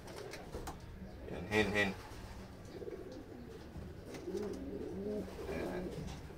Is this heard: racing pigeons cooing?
yes